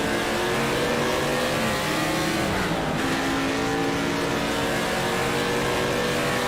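A historic GT racing car in the rFactor sim racing game, fitted with the HistorX mod, revs hard through rising engine pitch, drops briefly at a gear change with a fluttering gap, then climbs again, loud and continuous.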